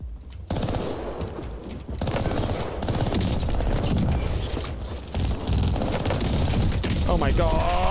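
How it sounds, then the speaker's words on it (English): Rapid automatic gunfire from a weapon in the video game Warzone, bursts of shots rattling through most of the clip with a player's voice talking over the shooting. "Getting a lot of hit markers with this gun, though."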